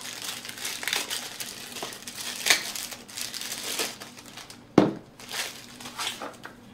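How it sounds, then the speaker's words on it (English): Plastic packaging around a Gardepro T5WF trail camera crinkles and crackles close by as it is unwrapped, with a louder crunch near the end. "there's the camera all packaged in plastic"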